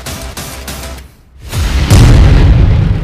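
An explosion from an Israeli strike outside Al-Aqsa hospital, a loud deep boom that swells after a brief lull and is followed by sustained heavy rumbling and roar, with no talk.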